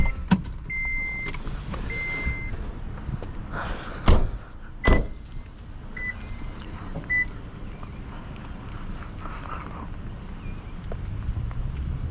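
Inside a quiet 2011 Toyota Prius Two hybrid at startup, a few short electronic beeps sound, along with a couple of sharp clicks and a low, faint hum in the cabin.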